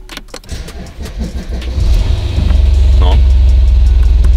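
A keyless modern car engine cranks, catches and then settles into a steady, loud idle rumble. A brief voice is heard near the start.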